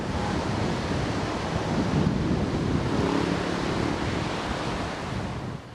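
Rough sea waves at Vlorë, Albania, driven by wind of up to 15 metres per second. The surf roars continuously and loudly, with wind buffeting the microphone throughout.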